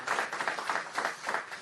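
An audience claps at a public gathering about opioid fatalities, producing steady, moderately loud applause with a dense patter of hands and gentle swells.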